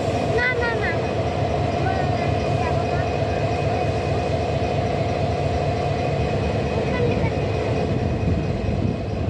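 A train rolls slowly through a railway workshop as it is turned on a circular turntable, producing a loud, steady, close rumble and metallic rolling with voices in the background.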